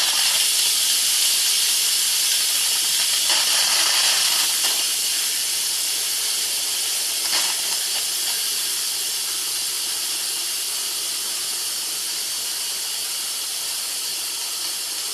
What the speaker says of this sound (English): stand back when you open the pressure valve because it will spray steam all over